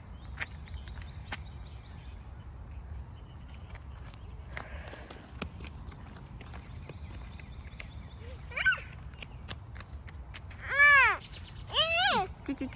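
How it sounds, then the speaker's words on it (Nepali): Crows caw in a rose park, a few harsh calls rising above steady outdoor ambience and an insect-like whine, one distant call first and then two louder bursts near the end. "चराको साउन्ड आउँदैछ"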